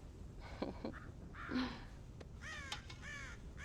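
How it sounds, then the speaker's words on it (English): Crows on a farm in Red Dead Redemption give several harsh caws in quick succession, some near and loud, others fainter, against a quiet outdoor background with no talking. "God damn crows!"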